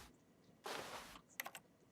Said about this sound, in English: Press 2 on your keyboard.